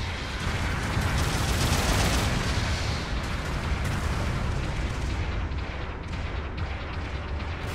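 A support artillery barrage pounds the battlefield in Gundam Battle Operation 2, a dense, continuous roar of explosions and blasts that stays loud and unbroken throughout, thinning slightly toward the end.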